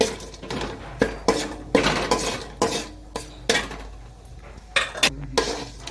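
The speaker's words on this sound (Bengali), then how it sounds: "বাদামটা একটু ভেজে নেব।" Cashew nuts fry in oil in a pan, with repeated sharp clinks and scrapes of a metal spoon against the pan in an uneven rhythm over a faint sizzle, close by with no talk.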